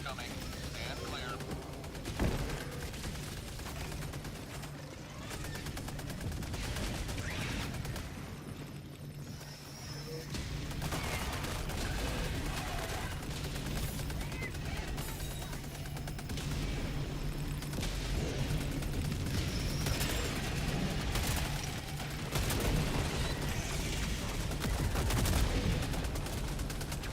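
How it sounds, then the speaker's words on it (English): Orbital barrage in a video game: a long stretch of dense, rumbling explosions and gunfire-like impacts, continuous and booming throughout, with voices talking over it. "Orbital barrage incoming. Stand clear."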